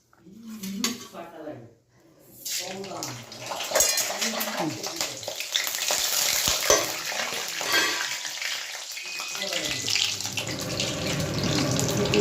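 A tempering for flattened rice vangibath crackles in hot oil. After a brief spoken stretch, a loud, dense sizzle bursts in and holds steady, while a voice keeps talking underneath and utensils clink now and then.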